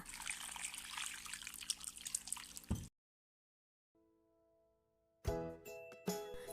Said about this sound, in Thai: หลังจากที่ต้มน้ำดอกอัญชันเสร็จเรียบร้อยแล้วนะคะ ก็เทน้ำกรองเอาดอกอัญชันออกค่ะ